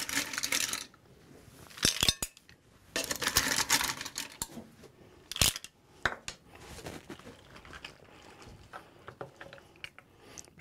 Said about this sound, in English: Next, I'm going to take a couple of nice spoons of my mussels.